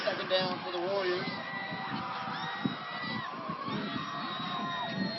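A crowd at a high school state tournament football game cheers and shouts, with a high, wavering shriek rising above it several times while an announcer talks over the noise.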